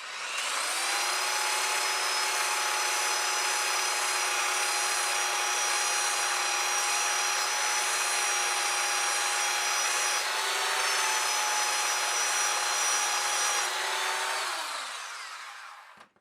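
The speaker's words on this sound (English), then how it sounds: "So belt sander makes easy work of this." A belt sander sanding a Corian nut blank held in a vise runs steadily with a high whine and abrasive grinding, close and loud, its pitch dipping briefly under load before winding down.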